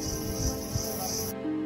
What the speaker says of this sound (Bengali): শুনশান জঙ্গলে শুধু ঝিঝি পোকার ডাক শোনা যাচ্ছে।